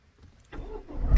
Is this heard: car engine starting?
yes